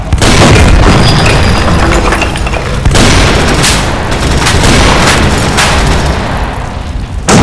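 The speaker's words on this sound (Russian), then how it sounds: "Ложись! Граната!" A grenade blast from a World War video game, with heavy booms and gunfire-like cracks filling the whole stretch, loud and dense, with several sharp bursts rising above a rumbling battle din.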